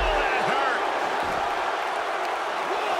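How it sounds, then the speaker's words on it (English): A video game wrestling arena crowd in WWE 2K23 roars steadily in a thick, continuous wash of cheering, loud and unbroken for the whole stretch. "The sound of this crowd is deafening, and he's asking for more."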